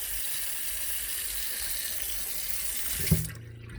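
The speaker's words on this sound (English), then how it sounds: "And hear the pump going." A houseboat's fresh water pump runs with the kitchen tap open, giving a steady hiss of flowing water that cuts off abruptly near the end, leaving a low electric hum.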